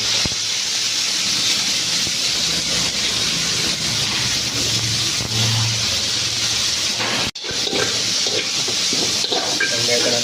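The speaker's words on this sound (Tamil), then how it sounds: "வெங்காயத்தை நல்லா போட்டு நல்லா ஒரு கோல்டன் ப்ரௌன் கவர் வைக்க போட்டு அதை சாத்தே பண்ணிப்போம்" Chopped small onions sizzle in hot sunflower oil in a pan while a mutton liver pepper roast is being cooked, a loud, steady frying hiss with a brief clatter partway through.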